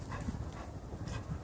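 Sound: chained dog panting and whimpering

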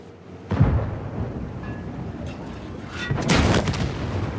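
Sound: tank explosion in a video game

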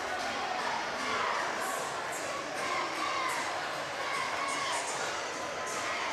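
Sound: crowd cheering at a high school basketball game

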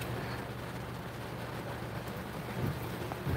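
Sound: heavy rain with thunder

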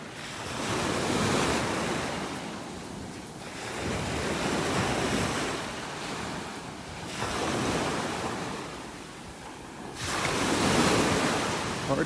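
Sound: ocean waves on beach in North Naples, Florida

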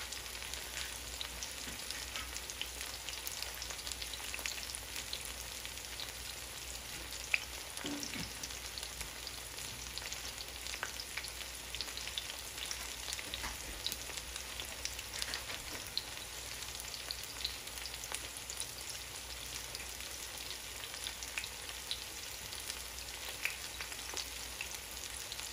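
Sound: squash flowers frying in a pan

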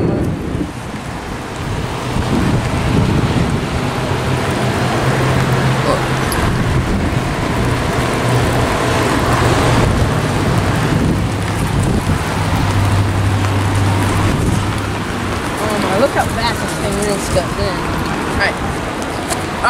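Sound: rain falling

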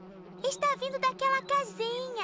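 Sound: bees buzzing around a beehive, cartoon

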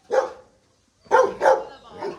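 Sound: puppies barking

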